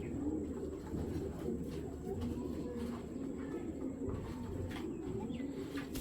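Low, throaty cooing from a female racing pigeon repeats steadily from close by, with a few faint chirps from other birds in the background.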